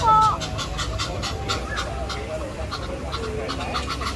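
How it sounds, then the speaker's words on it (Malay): Ducks quack in short nasal bursts at moderate distance, mixed with a steady outdoor murmur and some faint voices. "Itik datang tu. Itik."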